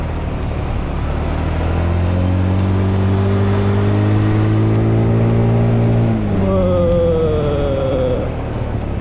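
A 2012 Honda Beat carbureted 110cc automatic scooter runs loud and steady while ridden, its engine note climbing and shifting with throttle changes throughout.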